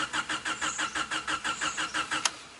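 A Honda CB7 fitted with a turbo engine cranks over on the starter to prime the oil pump, giving a steady, rhythmic chug of about a dozen even pulses. It is close and fairly loud and never catches.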